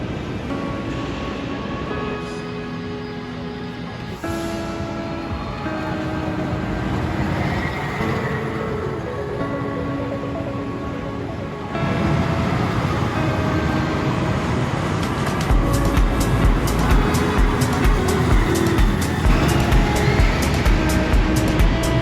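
Nickelodeon Slime Streak, a Chance Rides roller coaster at an indoor theme park, rumbles steadily with clattering track noise that builds and turns louder and more rattling toward the end, with no talk.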